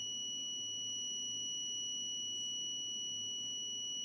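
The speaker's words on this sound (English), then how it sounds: "the system successfully detected the fall, displayed the warning message, and activated the buzzer after 5 seconds" A buzzer on an ESP32-CAM fall detection alarm system gives a steady, unbroken electronic tone with two high pitches. It holds at an even, fairly quiet level throughout, with no voices.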